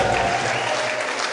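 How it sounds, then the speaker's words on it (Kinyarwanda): Sustained, dense applause from a wedding audience fills the whole moment, loud and steady with a broad crowd wash and no pause. "Reka dukomere Imana amashyi."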